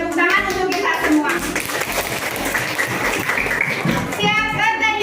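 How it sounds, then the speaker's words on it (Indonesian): Fourth-grade children in a classroom quiz session clap their hands together, a burst of quick overlapping claps, with children's voices and chatter mixed in at the start and end. "Tepuk tangan untuk kita semua."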